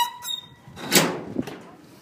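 Mabati metal sheet doors enclosing the base of a floating dome toilet digester swing open with a short squeak followed by a loud metallic scrape and rattle, close by.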